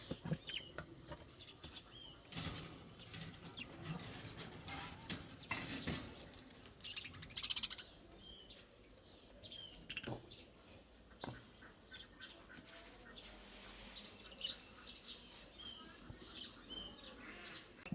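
Pet budgerigars chirp and squawk in short, scattered bursts amid wing flaps and light rustling, fairly close but quiet, with no talking.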